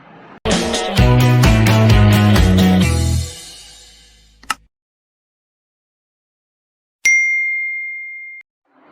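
Notification bell ding effect: a short, bright, ringing chime that sustains briefly and fades, following a burst of music and a sharp click.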